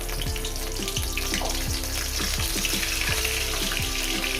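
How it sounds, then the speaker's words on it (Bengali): Dried fish fries in a pan with dried red chilli for a mustard-greens bharta, a loud, dense sizzle with steady bubbling pops running throughout. "মাছটাকে আমি সুন্দর করে ভেজে নিচ্ছি"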